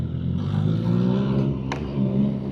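A motorized tricycle rumbles past close by on a Philippine road, its engine droning loudly and steadily for a couple of seconds with a brief clatter near the end.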